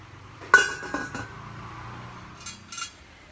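A lid set onto a pot of cassava on the stove, a sharp metallic clink followed by a few lighter rattles, then two more quick clinks as it settles, close and clear.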